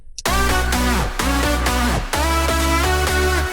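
Electronic music break made in FL Studio, with loud, bright synth chords over a steady, pounding bass pulse in a repeating rhythmic pattern, punctuated by short dips and falling sweeps.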